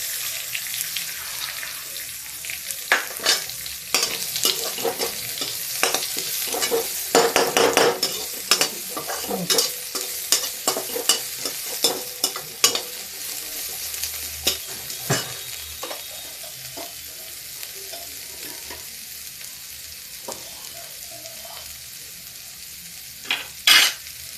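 Onions with curry leaves sizzle in a hot pan while a utensil stirs and scrapes through them, giving crackling hiss broken by frequent sharp clatters against the pan.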